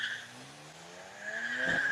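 A modified BMW 335 race car climbs a hill at the Cape Town hill-climb. Its engine drones with a rising pitch, then tyres squeal and skid sharply near the end, heard from a moderate distance.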